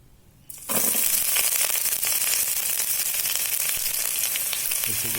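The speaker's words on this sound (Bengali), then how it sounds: "উপকরণ ভালো করে ভেজে নেব" Chopped onion, garlic and green chili hit hot oil for vegetable khichuri, bursting into a loud, steady sizzle after a short quiet moment and frying on evenly close up.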